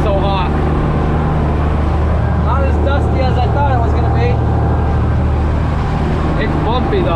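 A tractor doing fall tillage on a hot day with the cab door open drones with a loud, steady low engine hum heard from the seat while riding, with a voice talking over it throughout.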